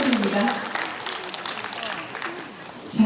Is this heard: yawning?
no